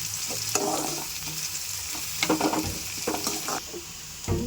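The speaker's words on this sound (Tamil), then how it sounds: "இப்போ வெங்காயம் போட்டுக்கலாம். நல்லா வதக்கிக்கலாம்." Sliced onions sauté in hot oil with a bright, close sizzle, broken by irregular clatters of a spoon stirring against the pan, loudest in the second half, no voices.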